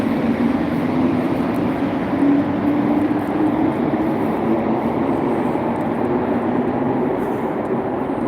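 An Orange Line metro train rolling out of the station, a loud, steady low rumble and hum of wheels and motors that stays constant and close throughout, with no voices.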